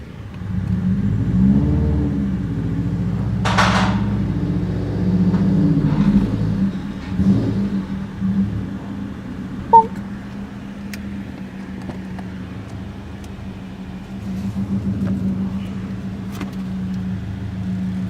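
A 2006 Subaru WRX with a built engine and Link G4x tuning revs while reversing, a steady mid-pitched engine drone that rises and falls in uneven throttle blips, with one brief sharp click partway through.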